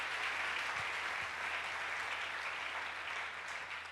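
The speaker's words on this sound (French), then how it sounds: "Acclamons le Seigneur" A church congregation applauds the Lord in sustained, dense clapping that holds at an even, moderately distant level for the whole stretch, with no voices standing out.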